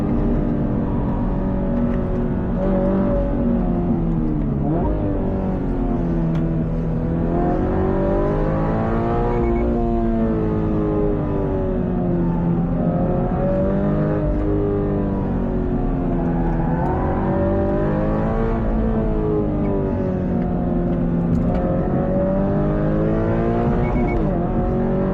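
A Subaru BRZ or Toyota GR86 sports car with a 228-horsepower engine revving hard, its pitch climbing and falling in repeated sweeps through gear changes as a loud, continuous drone that fills the whole stretch.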